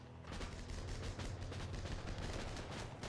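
Dense, continuous gunfire from the battlefield of the video game Armored Battle Crew, a loud, busy clatter of overlapping shots with no clear gaps and no talking.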